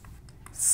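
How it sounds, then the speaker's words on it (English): Marker strokes on a whiteboard while writing a math answer, a few faint short squeaks followed by a brighter, louder drawn-out stroke near the end. "So we can erase and write the answer here."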